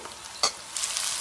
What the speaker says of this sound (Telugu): ఇప్పుడు గుమ్మడికాయ ముక్కలు వేస్తున్నాను, మగ్గాయి ముక్కలు బాగా.